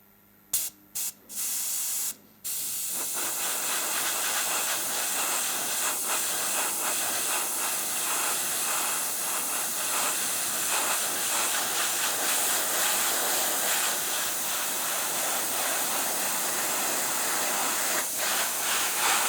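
An airbrush spraying acrylic paint onto a part: a few short bursts of hiss, then a continuous, even airy spray that holds steady for well over fifteen seconds, close and alone.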